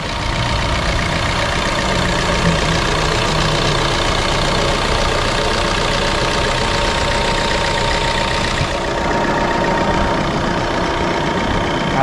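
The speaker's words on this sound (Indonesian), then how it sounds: "Kalau dibuka agak berisik, tapi kalau udah ditutup kap motornya nggak kedengaran bunyi mesin dieselnya." A diesel Suzuki Ertiga, a 2017 hybrid model, idles steadily with its hood open, a loud, continuous engine hum and clatter running unbroken through the whole stretch with no one speaking.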